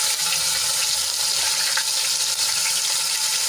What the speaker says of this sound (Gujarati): આદુ લસણ અને મરચાંની પેસ્ટને આપણે સાંતળી લઈશું।